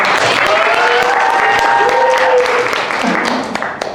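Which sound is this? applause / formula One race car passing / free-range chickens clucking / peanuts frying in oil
applause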